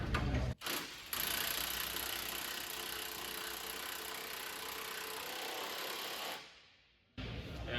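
An impact wrench runs loud and sustained for several seconds on a 24 mm latch bolt of a CLAAS Jaguar 1000 Series forage harvester feedroll. A brief pause comes early, then the tool winds down and cuts off before starting again.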